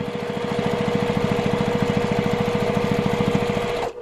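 A sewing machine runs continuously, top stitching a zipper on a crossbody bag, its rapid, even needle rhythm loud and close for about four seconds before stopping abruptly.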